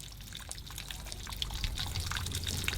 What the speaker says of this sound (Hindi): देखो पानी कैसे निकल रहा है जी वैगन से